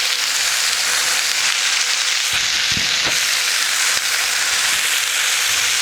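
Marinated lamb coated in Greek or Middle Eastern spices sizzles loudly on a hot Blackstone griddle, a dense, constant close-up frying hiss with a few faint clicks and no voices.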